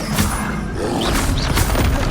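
Confringo fire spell explosion in Hogwarts Legacy, a heavy booming blast with crashing thuds, loud and close, no talk.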